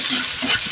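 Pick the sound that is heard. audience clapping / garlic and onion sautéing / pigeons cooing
garlic and onion sautéing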